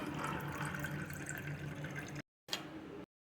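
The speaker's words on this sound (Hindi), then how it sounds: "अब हम इसमें ऐड करेंगे पानी" Water poured into a glass of raw mango sharbat, a steady trickling pour for about two seconds, then a brief second splash after a short gap, close and fairly quiet.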